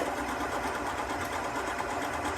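A sewing machine with a sliding guide foot runs a zigzag seam joining fabric or lace, a steady, fast mechanical whir and rattle that holds evenly throughout without pauses.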